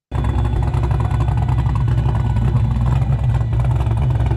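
A car engine rumbles and revs through a Vibrant muffler exhaust, a deep, loud, continuous throaty drone close by.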